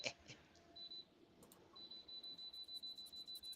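A faint electronic beep repeats steadily in a regular pulsing rhythm, sitting in the background of a quiet room with no one speaking.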